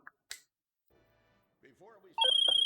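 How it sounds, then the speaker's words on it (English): A phone rings inside Grand Theft Auto Online, a loud repeating electronic ringtone of steady pulses that starts late and carries to the end, after a few faint clicks and brief muffled talk. "still waiting on that phone call"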